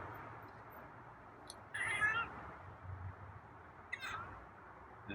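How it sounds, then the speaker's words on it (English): A short, high, raspy cat squeak, followed a couple of seconds later by a fainter second one, over quiet background hiss. "That's a squeak. That's not a meow."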